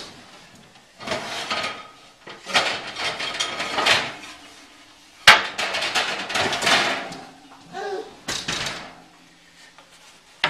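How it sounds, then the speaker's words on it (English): A hot pizza stone at about 500 degrees is pulled out of an oven onto a pizza peel, with several close, loud scraping slides and hard clunks, including a sharp knock midway. "So I've got my pizza stone in the oven, so I'm gonna pull that out."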